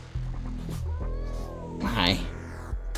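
A cat meows several times at close range, drawn-out pitched cries with a brief strained caterwaul, mixed with quiet human voices nearby.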